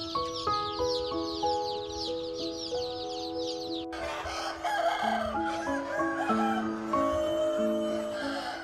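A large flock of purebred Mía chickens on a farm fills the air with dense overlapping clucks and calls, some drawn-out crowing, steady and fairly near.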